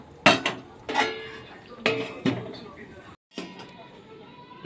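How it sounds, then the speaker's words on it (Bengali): Vegetables for a Bengali niramish sukto are stirred in a metal pot, with several sharp utensil scrapes and clanks against the rim, then a brief pause before a lid settles on. Each contact is close and distinct. "এবার এটাকে আমি ভালো করে নেড়ে এটা ঢাকা দিয়ে দেব"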